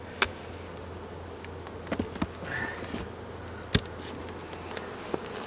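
Honey bees buzz around a hive full of honey, a soft steady hum with occasional sharp clicks and taps, fairly quiet, with no talking.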